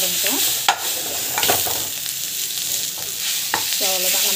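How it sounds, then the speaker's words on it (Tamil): Grated raw mango sautés in a pan for mango rice, giving a steady close sizzle broken by scraping stirs, with no talk. "மாங்காய் துருவில் போட்டுட்டு கொஞ்ச நேரம் வந்து வதங்கட்டும்"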